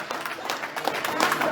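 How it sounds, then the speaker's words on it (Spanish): Church congregation applauding together in praise, a dense, steady wash of clapping from a crowd filling the short moment. "Denle un aplauso grande al Señor."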